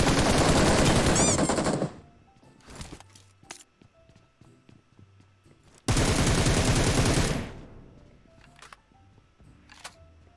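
Two long, loud bursts of automatic gunfire in PUBG with a quiet gap between them, where scattered single shots and faint footsteps sound in the distance.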